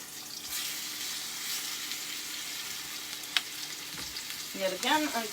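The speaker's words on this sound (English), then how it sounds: "get a nice sizzle going on there" Chicken pieces sizzle steadily in hot oil in a pan, a loud continuous frying crackle with a few clinks and stirring noises toward the end.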